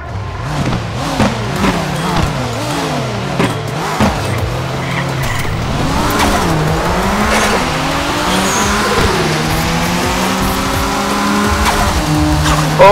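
In the Nitronation racing game, a Mitsubishi Eclipse and a Nissan Skyline race with loud, close engines that rev and climb through gear changes, while tires squeal and skid over them.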